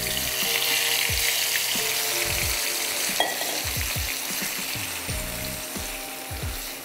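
Chicken pieces sizzling loudly in a hot pan for a pepper chicken curry, a continuous close frying hiss with repeated spoon scrapes and stirring knocks.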